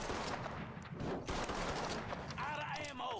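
Rapid bursts of gunfire from the video game Mafia III crackle loudly and continuously across the clip, with a voice speaking over the later part.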